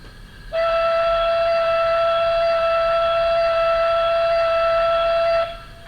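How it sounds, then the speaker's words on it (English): A single long, low steam whistle from a model GWR Manor class locomotive's sound system blows steadily for about five seconds, loud and close, then cuts off. "That's the lower pitched whistle that Great Western locomotives have."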